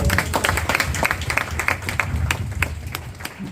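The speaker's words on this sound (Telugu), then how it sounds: "ఒకసారి ఆయనకి చప్పట్లు కొడతారా?" A church congregation at an Apostolic Church gathering in Amalapuram applauds a man named Peter, with dense, steady clapping from many hands sustained for several seconds at close range.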